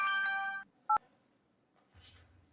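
Telephone keypad tones beep in a quick burst of dialing, followed by one more short beep, then near silence and a faint low hum.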